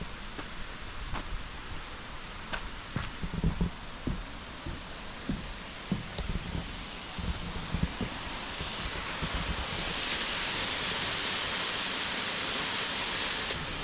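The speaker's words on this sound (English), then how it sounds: "We've had so much rain that I knew the waterfall would be running pretty good, and it is." Bridal Veil Falls, running strongly after heavy rain, pours out a steady broadband rush of falling water that grows louder and fuller toward the end, with scattered footsteps or soft knocks heard early on.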